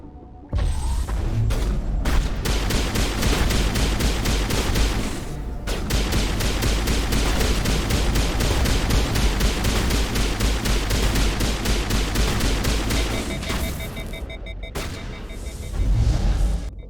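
Rapid, loud gunfire from the video game Mass Effect 1, sustained bursts of shots in steady rhythm with brief pauses, dominating the scene with no talking.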